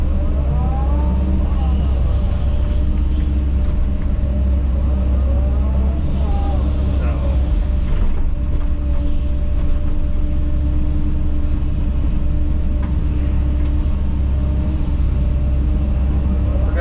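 A compact track loader drives in high gear over soft ground, its engine a loud, continuous low rumble with shifting whining tones as it moves. Some voice-like sound may sit under the engine.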